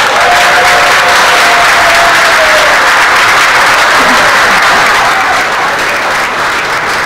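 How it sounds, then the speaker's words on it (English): Loud, dense applause from a forum audience as speakers come up to the stage, a sustained roar of clapping that holds steady throughout with no talking over it. "So please, huge round of applause, come to the stage, Pastor Rich Blum and Carrie French."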